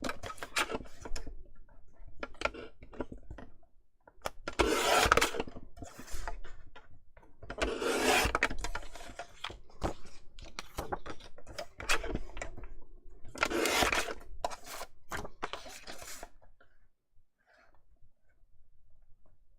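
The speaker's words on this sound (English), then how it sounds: "So let's get that cut out." Scissors cutting a paper photo for a mini album, with rhythmic bursts of snipping and rustling paper separated by short pauses, close and clear, with no voices.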